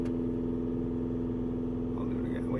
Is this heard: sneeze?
no